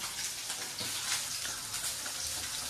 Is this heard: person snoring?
no